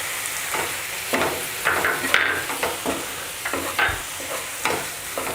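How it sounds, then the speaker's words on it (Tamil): Ginger and spices sautéed for a chicken gravy masala sizzle steadily in a pan while a spoon scrapes and stirs in irregular strokes, close and clear with no talk. "இஞ்சி லைட்டாக அந்த பச்சை வாசனை போகிற அளவுக்கு நல்லா வதக்கிக்கோங்க."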